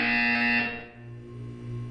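A harsh electronic buzzer in the video game Portal 2 sounds loudly for under a second, then cuts to a lower, steady hum.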